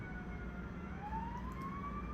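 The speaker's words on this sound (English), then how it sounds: "that I now have sirens" Emergency vehicle sirens wail faintly in the distance, a thin rising and falling tone over low background rumble, with no talking.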